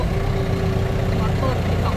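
Kubota 135 walk-behind tractor engine running steadily with a continuous low droning hum and a constant tone, loud and close, with no break throughout.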